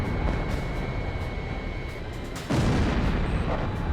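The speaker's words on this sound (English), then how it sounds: "Missile launched" Missile launch in the Ace Combat Zero video game, a sudden loud whooshing burst over steady jet engine roar, with a faint cockpit warning tone.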